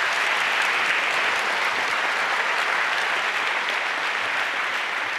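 A conference audience applauds steadily and densely throughout, a sustained wash of clapping at even loudness with no talk over it.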